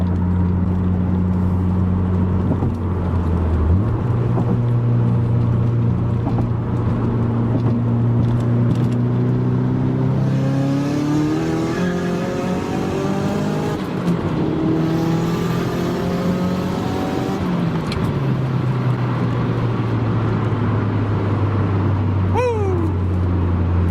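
A 500hp Saab 9-5 with transmission trouble pulls hard through the gears, its engine climbing in pitch through repeated rising sweeps, heard loud from inside the car, with a brief shift break midway.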